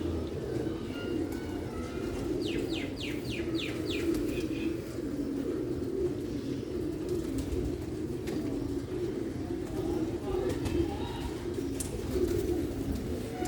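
Pigeons coo in a low, steady rumble from start to finish, with a brief burst of higher chirps early on, kept by a Sialkot bird breeder; no talking.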